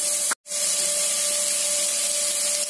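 Onions hit hot oil in a kadai while egg fried rice is cooked, giving a loud, steady hiss and sizzle that continues unbroken after a brief cut near the start.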